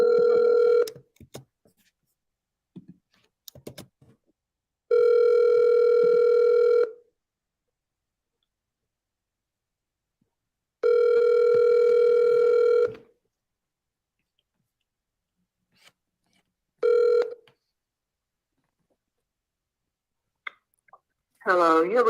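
Outgoing call ringback in a repeating two-second tone pattern: a steady purring ring, a long silence, then the ring again, with a few small clicks before it and a voice beginning as the call connects.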